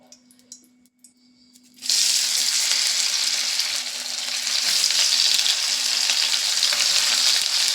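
Soybean chunks dropped into hot oil in a wok burst into a loud, dense sizzle after a quiet start with a few faint knocks, the frying hiss holding steady and close until the end.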